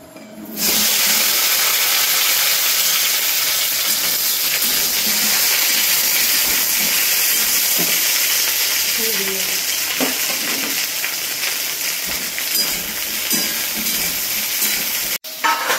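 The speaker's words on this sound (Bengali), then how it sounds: "তো ফার্স্টে কিন্তু আমি ঢেঁড়সটা আজকে ভাজবো" Large-cut okra pieces fry loudly in a pan, a dense continuous sizzle and hiss with stirring scrapes running the whole time before stopping abruptly near the end.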